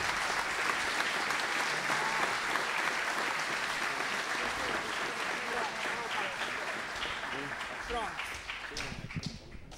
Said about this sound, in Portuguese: Mais um aplauso para eles.